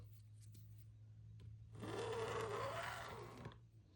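A sewing machine stitches shirring lines with elastic in a steady whirring run of about two seconds, starting abruptly and then trailing off, over a constant low hum with faint clicks before it.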